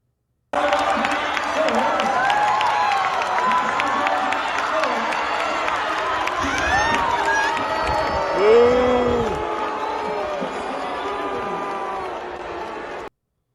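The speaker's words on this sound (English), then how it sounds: "the people in the stands were booing" A stadium crowd in the stands booing, a dense, sustained roar of many voices with shouts and whoops rising and falling throughout, loud and continuous with a brief swell near the end.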